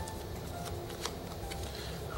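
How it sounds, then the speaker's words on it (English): Playing cards being shuffled during a card trick, a soft, quiet riffle of paper flicks and small taps over a steady background hiss. "So I'm going to take these cards up, and I'm going to shuffle them."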